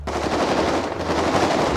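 A continuous burst of automatic gunfire rattles fast and loud throughout during a GTA 5 roleplay match, dense and close with no pauses or talking.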